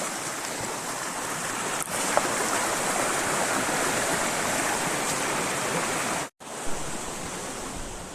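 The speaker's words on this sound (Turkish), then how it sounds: "Maşallah yukarıdan ormanlardan iyi su geliyor." Stream water flowing down from the forests, a loud, constant close rushing of a creek with one abrupt brief dropout near the end and no talking.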